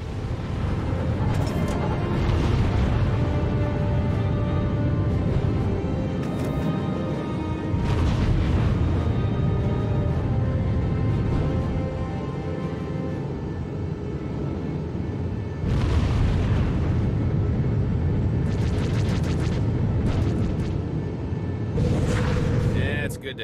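Missile explosions boom repeatedly during space combat in Star Wars: The Old Republic, several heavy blasts spaced out over a steady rumble, with people talking throughout.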